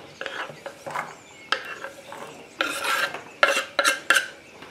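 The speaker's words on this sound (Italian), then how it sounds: "Metto i peperoni in una padella." Chopped bell pepper strips and pieces tipped into a frying pan make a series of close rustling, scraping clatters in uneven bursts, growing louder and denser toward the end, with no talking.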